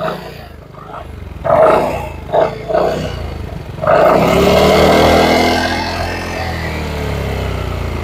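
A Zontes 368G adventure maxi-scooter's exhaust revs in short bursts, then settles into a loud, steady, close drone.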